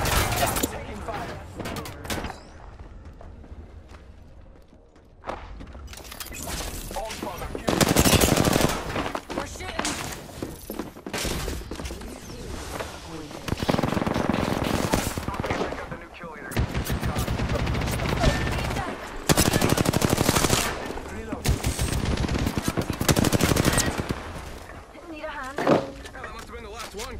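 Rapid automatic gunfire and repeated shots from the battle royale game Apex Legends, loud and sustained in several long bursts with short pauses, a voice speaking over the shooting at times.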